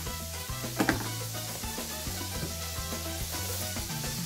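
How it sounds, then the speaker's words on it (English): Breakfast sizzling and frying in a hot pan in a home kitchen, a steady crackle with a brief metallic clink from cookware, under faint background music. "we're cooking up some breakfast as we speak."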